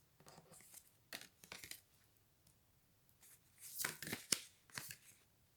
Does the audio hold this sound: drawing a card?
yes